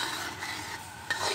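A spoon stirs salted sticky rice mixture for biko in a pot, giving a quiet, continuous scraping and swishing with a small clink near the end.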